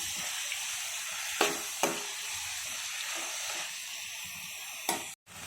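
Shredded cabbage and moong dal fry in a pan with a steady, even sizzle, broken by a few sharp clicks of a spoon stirring before the sound cuts off abruptly.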